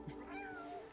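A cat meows once in a video game trailer, a short, fairly clear tonal call that rises and then trails off, with a low steady background beneath it.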